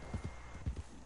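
Horse hooves clip-clop in the video game Red Dead Redemption 2, four quiet, evenly paced strikes in a steady walking rhythm.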